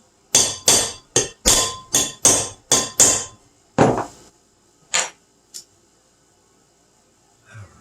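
A nylon center sleeve is tapped into an Arctic Cat hex clutch in a quick series of about ten sharp hammer strikes, then a few spaced final taps, close and loud in a quiet shop.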